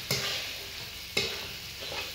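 Water poured into a hot pan of spicy vegetable curry topped with roasted ground peanuts, giving two sharp bursts of hissing sizzle followed by steady bubbling and frying.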